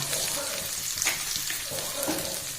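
Onion and peas frying in a pan for a potato and capsicum sabzi, a steady close sizzle with light crackle running throughout.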